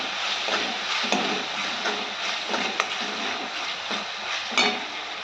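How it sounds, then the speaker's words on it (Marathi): Green chilli and garlic thecha frying in a hot pan, a steady close sizzle broken by repeated stirring scrapes and clinks, with no talking. "हा ठेचा पण आपण याच्यामध्ये चांगला परतून घेणार आहे"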